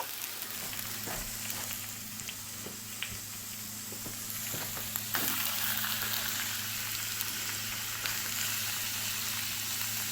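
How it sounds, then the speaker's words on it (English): Turkey fries in a cast iron skillet on a wood stove, giving a continuous crackling sizzle that grows denser and louder partway through, with scattered pops and faint scrapes close by. "And I'm going to cook this up in my cast iron skillet on the wood stove, and it will be good."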